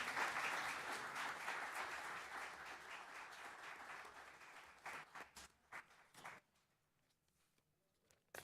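Applause for city service award winners at a December city council meeting in San Gabriel, a roomful of steady clapping that fades into a few scattered claps and then stops.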